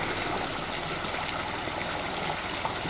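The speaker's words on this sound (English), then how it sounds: "there's a waterfall. Making a lot of noise and a lot of water coming over the top of that." A waterfall in the woods pours a heavy volume of water over its top, making a steady, dense rushing roar that stays constant and close, with no voices.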